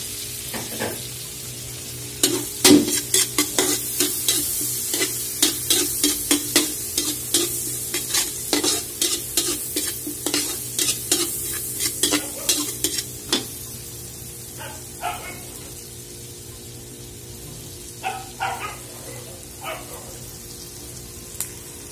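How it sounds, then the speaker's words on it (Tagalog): Onions, garlic and black pepper browning in a pan for Filipino beef steak, with sharp repeated scrapes and stirring strokes over a steady sizzle, busy at first then thinning to sparse scrapes near the end. "pababrownin ko lang ng kaunti yung mga sibuyas, bawang, paminta"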